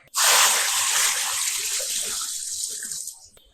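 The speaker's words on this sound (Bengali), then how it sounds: "এখন আমরা পানি দিব এটাতে আরো 10 লিটার" Water gushes in a steady, loud stream into a balcony fish tank, about 10 litres, starting abruptly and tapering slightly before stopping.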